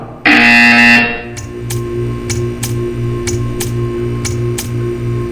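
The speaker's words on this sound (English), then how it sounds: "You will hear a buzzer." A loud, sustained electronic buzzer from the Portal 2 video game sounds for about a second, followed by a softer repeating ticking pulse with a low steady hum.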